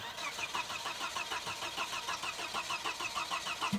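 A car just traded in at a dealership cranks repeatedly without catching, the starter whirring in a fast even rhythm close by for several seconds with no voices.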